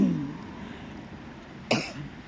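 A single sharp cough rings out close by outdoors on a cold morning walk, preceded by a faint low murmur and quiet background.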